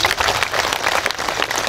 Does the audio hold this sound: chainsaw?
no